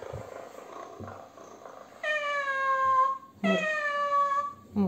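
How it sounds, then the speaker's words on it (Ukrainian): Little Live Pets interactive toy kitten, battery powered, giving two clear electronic meows. Each meow is a sustained tonal cry lasting over a second, with a short gap between them. Softer purring and handling noises come before the meows. "М'явкає."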